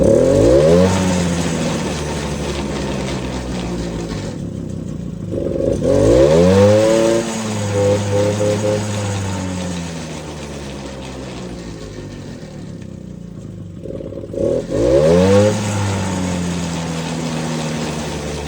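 Small Suzuki LT50 quad engine from a barn find, warmed up, revved repeatedly with the thumb throttle: loud close rising and falling engine pitch in several bursts, bogging slightly on each blip.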